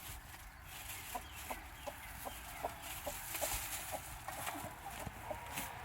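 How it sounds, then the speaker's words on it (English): Chickens cluck in short, regular bursts close by, soft clucks repeating roughly every half second over a faint background hum, with no talking. "That chicken's sitting."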